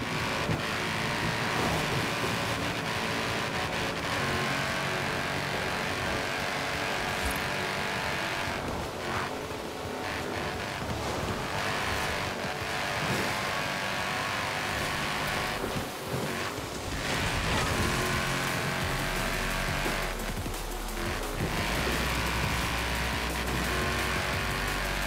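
A 2017 Mercedes-Benz AMG GT R in the racing game Forza Horizon 4 drives across open country. Its engine drones steadily throughout with wind-like rushing and a few dips in level.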